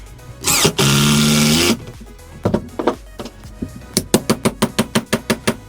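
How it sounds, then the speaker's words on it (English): Screw driven into wood with a power drill: a long steady whine of the driver motor, then a run of evenly spaced sharp clicks and knocks, close and fairly loud. "And now I'll demonstrate the same using a screw."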